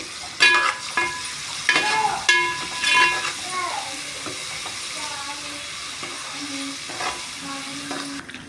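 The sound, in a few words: ginger garlic paste frying in hot oil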